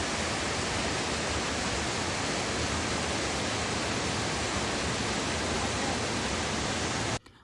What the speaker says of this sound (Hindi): और आप इस फॉल की आवाज़ सुनेंगे।